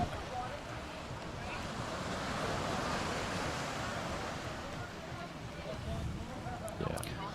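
Ocean waves washing onto a sunny California beach, a steady rush of surf mixed with wind buffeting, continuous and fairly close, with a brief sharper bump near the end.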